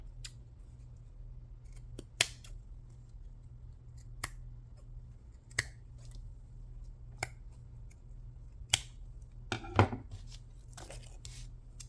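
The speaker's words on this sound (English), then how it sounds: "I'm gonna cut this." Scissors cutting paper for a handmade tagbook, a sparse series of sharp, crisp snips spaced a second or two apart against a quiet room hum, with one quick cluster of cuts near the end.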